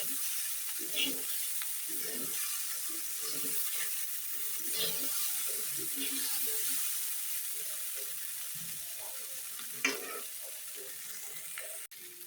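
Garlic and vegetables frying for a Bengali tengra fish chachchari with potato, eggplant and flat beans, a steady soft sizzle with intermittent stirring scrapes and small clinks, close and moderate in level, no talk.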